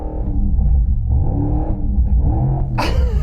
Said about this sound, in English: if I rev it by pressing the accelerator